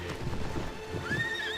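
Hoof clip-clops from a horse-riding video game, a few quick steps followed by a rising whinny near the end, clear and close.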